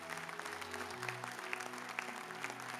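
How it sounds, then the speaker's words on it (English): Church audience applauding a long-serving pastor, steady sustained clapping from a large crowd, even and continuous throughout, heard from a short distance. "Can you put your hands together for him one more time?"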